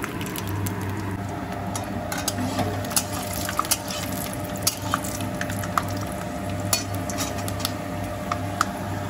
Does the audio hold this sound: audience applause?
no